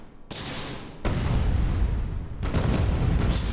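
Rockets detonating at long range in the space game Space Engineers, heard as loud sustained booming rumbles in a couple of heavy waves, with no voice over them.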